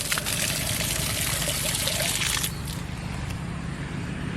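Water running from a garden irrigation hose in a longan orchard, a steady close-up trickle and splash that carries on unbroken, loudest in the first half and then settling to a softer flow.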